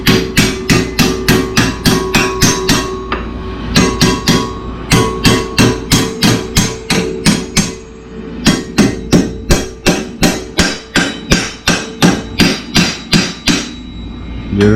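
Rapid, evenly spaced hammer blows ring out on metal, loud and close, continuing in long runs with one brief pause partway through.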